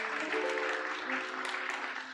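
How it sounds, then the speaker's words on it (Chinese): A church congregation at a Sunday worship service claps together to welcome newly named deacons, a brief, moderately loud burst of scattered clapping in a reverberant hall. "我们再次的拍手来欢迎他们啊"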